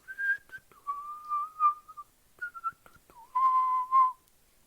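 A person imitates whistling with their voice, a clear melodic whistle in several sustained and sliding phrases separated by short pauses, fairly close and moderately loud.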